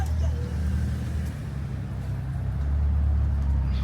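A car passing on a road, a steady low rumble of engine and tyre noise that swells slightly toward the end, close and continuous with no talk.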